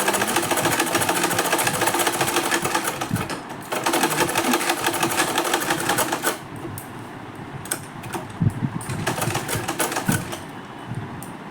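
A sewing machine runs a straight seam on a blouse, loud and close, with a steady rapid chatter that pauses briefly, then resumes in short bursts.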